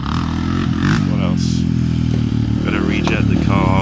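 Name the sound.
motorbike engine running loud without baffle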